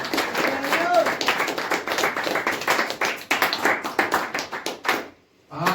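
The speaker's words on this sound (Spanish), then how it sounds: "De una ofrenda de palmas al Señor" Congregation clapping during a church sermon, a lively, uneven patter of many hands in a room, mixed with voices, that keeps up for several seconds and then drops off abruptly near the end.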